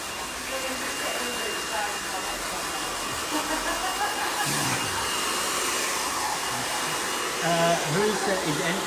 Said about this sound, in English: We're going to do blow dry